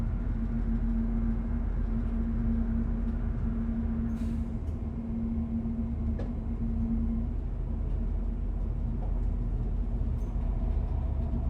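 Electric train running on a mountain plateau line in Norway, a steady loud rumble with a sustained hum heard from on board, continuous throughout with no talking.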